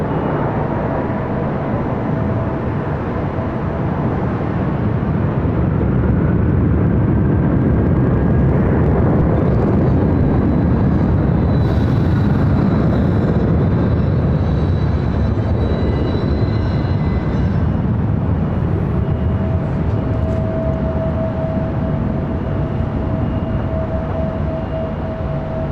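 Jet airliner taking off from runway 24 left at LAX: a long, loud, steady roar heard from a distance for about twenty-five seconds, with no talking over it.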